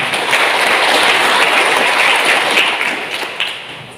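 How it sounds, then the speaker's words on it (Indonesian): A church congregation applauds together, a dense, steady wash of clapping from many hands that holds for a few seconds and then tapers off toward the end. "Kita berikan tepuk tangan."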